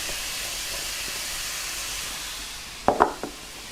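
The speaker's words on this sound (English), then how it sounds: "Just jostle them around a little bit," Onions, carrots and celery frying gently in oil in a pan over low heat: a soft, steady sizzle, then a brief cluster of close scraping knocks as they are stirred near the end.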